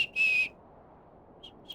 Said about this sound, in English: we should listen to the whistling tune